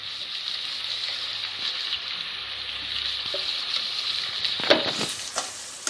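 Brinjal pieces and ground masala stirred in a frying pan, a steady close sizzle with intermittent scraping and clinking of the spoon against the pan, louder near the end.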